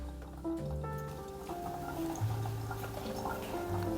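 Water is poured over ground coffee in a pour-over brewer, a soft continuous trickle and dripping that runs steadily for the whole stretch, close by and fairly quiet, with no talking.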